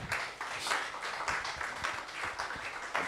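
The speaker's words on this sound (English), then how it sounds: "Clapping." An audience at a stakeholder forum claps to welcome a speaker, with a steady patter of many hands heard at moderate distance and no talk over it.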